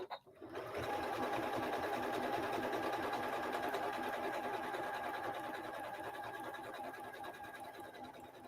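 A Janome Skyline S7 Anniversary Edition sewing machine stitches steadily after a brief start, a loud, even mechanical whir and rapid needle chatter that runs continuously, close up and alone.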